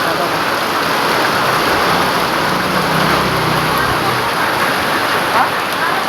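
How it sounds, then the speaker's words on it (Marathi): A hailstorm with heavy rain gives a loud, unbroken roar of dense downpour drumming on surfaces, steady throughout with no pauses. "गारा पडताय डायरेक्ट"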